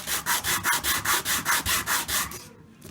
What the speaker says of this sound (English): I'm having to sand these wheels down.